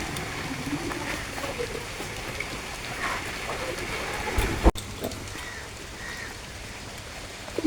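Steady rain patters on a rainy day, an even wash of drops running throughout with a sharp knock partway through and a faint voice in the background.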